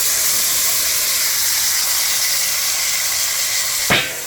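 Gungo peas going into a hot pot of curry for Jamaican gungo stew: a loud, steady sizzling hiss fills the whole stretch, with a brief louder swish near the end.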